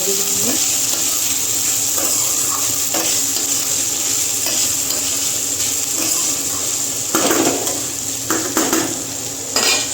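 Spices frying and sizzling in a pan as they are stirred, with a constant hiss of hot oil and a few sharper scrapes and clinks of a utensil near the end.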